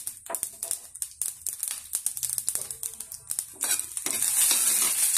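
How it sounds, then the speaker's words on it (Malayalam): Mustard seeds, a dried chilli and urad dal frying in hot coconut oil for a Kerala Onam curry, a crackling sizzle with popping bursts and stirring scrapes that grows into a steady loud hiss at the end. "എല്ലാം ചേർത്ത് നന്നായിട്ടൊന്ന് ഫ്രൈ ചെയ്യാം"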